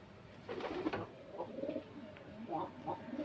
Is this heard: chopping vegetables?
no